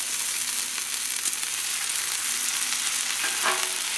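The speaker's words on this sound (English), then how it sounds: "we are cooking this bacon down" Bacon sizzles and crackles steadily on a Blackstone flat-top griddle, a loud, continuous frying hiss with small pops throughout.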